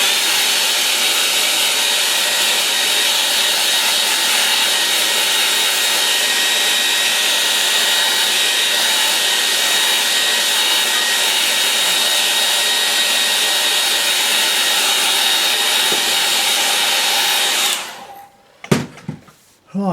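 A hair dryer blows steadily to dry a watercolour snow scene, a loud, close, continuous roar for most of the stretch before it switches off abruptly near the end.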